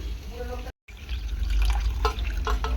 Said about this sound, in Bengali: ঢ্যাঁড়সটাকে আমি ভালো করে ধুয়ে নেব।